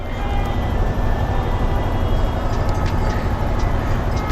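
A train passes near a road, a continuous loud low rumble and roar, steady throughout and close by, with no talk.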